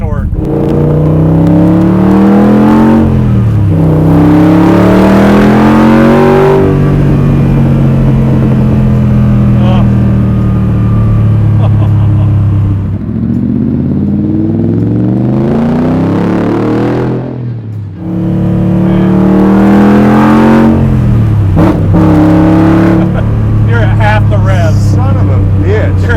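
A 750-horsepower naturally aspirated Superformance Corvette Grand Sport with a Mercury SB4 427 engine revs hard to about 3,500 RPM, its pitch climbing and falling in repeated surges, loud and close throughout the recording.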